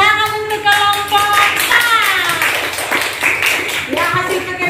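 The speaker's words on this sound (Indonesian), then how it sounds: "Oke, tepuk tangan untuk kelompok" A class of primary school pupils claps for a student group, quick hand taps mixed with voices chanting and talking over them.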